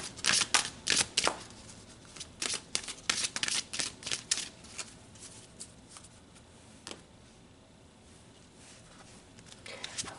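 Chakra cards for a tarot-style reading are shuffled close up in a run of quick riffling bursts that fade into quieter handling, with a voice talking softly in places.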